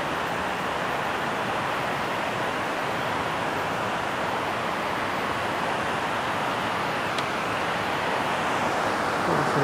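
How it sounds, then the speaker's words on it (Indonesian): A large river rushes swiftly below a hidden railway bridge in a village, giving a loud, steady roar of current that fills the whole stretch without voices. "Wah, deras sekali, Pak ya, airnya."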